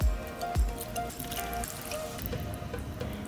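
Two cups of water poured over layered potatoes in a moussaka dish, a soft trickling and dripping with a couple of heavier splashes at the start, close and fairly quiet.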